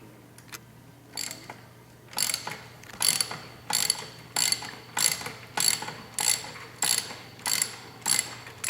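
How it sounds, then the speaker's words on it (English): A 3/8-inch drive ratchet with a long extension clicks rapidly in repeated bursts while loosening header bolts on a 2015 Suzuki GSX-R600 motorcycle, close and crisp with a steady, even rhythm and no talking. "got about a 12-inch extension using 3/8 drive ratchet here"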